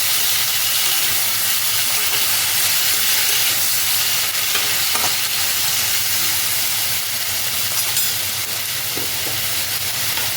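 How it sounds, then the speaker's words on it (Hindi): Chopped medium tomatoes and curry leaves sautéing in a hot pan give off a loud, continuous hiss and sizzle with faint stirring noises underneath. "अच्छे से एक बार इनको इस तरीके से भून लेंगे।"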